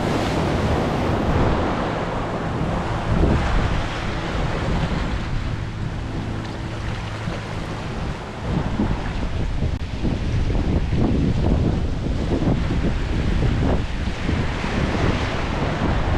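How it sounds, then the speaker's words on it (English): Big ocean waves rolling in at Half Moon Bay, California, heard from out on the water as a steady, loud surf roar, with wind buffeting the microphone throughout and no voices. "It's not heavy, especially for these big waves coming in."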